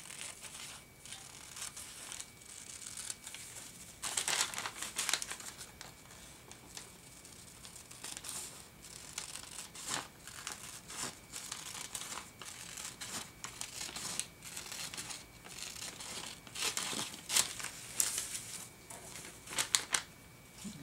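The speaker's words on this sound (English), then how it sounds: "love the feel and the sound of tracing paper" Tracing paper being handled and crinkled at close range, a continuous dry rustle broken by sharper crackling bursts and crumples over about twenty seconds, with no voices.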